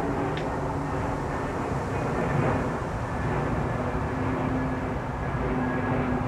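A big airplane passes overhead near the MBDA missile centre in Stevenage, a steady, broad rumbling roar that fills the whole clip at moderate loudness with no clear rise or fade.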